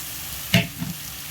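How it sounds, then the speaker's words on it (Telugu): Tomato pieces dropped into hot oil with ridge gourd, one brief loud sizzling hit followed by a softer crackle, close and short over a low background hiss. "నూనెలో అది వాటేసి వాటితో పాటు ఇప్పుడైతే టమాటా ముక్కలు కూడా వేసేస్తున్నాం"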